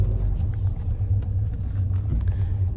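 A low, steady engine and road rumble fills the interior of a car waiting on bonfire night, continuous and moderately loud with no voices.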